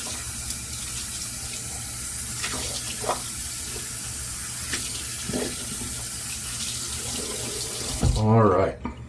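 Water from a tap runs steadily to rinse out a tub of shaving soap, a constant hiss with faint clinks, then stops abruptly near the end.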